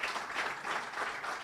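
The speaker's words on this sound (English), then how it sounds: "Let's give him a big round of applause because you might not get a chance" Audience applause at a breakfast meeting of a business expo and independence festival, a dense steady wash of clapping filling the whole moment without any voices.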